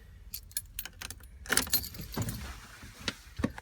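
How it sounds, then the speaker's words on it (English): Set of keys for a 1997 Autosleeper Legend motorhome on a Transit 2.5 turbo diesel jangling in a hand: bursts of bright metallic clinks, close and crisp, with a denser cluster near the middle and short quiet gaps between shakes. "A full set of keys."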